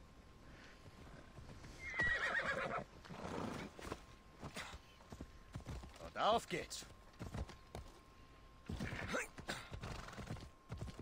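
A horse neighs loudly, followed by clip-clopping hooves in Assassin's Creed Odyssey on PS4; a person speaks briefly in German over the sounds.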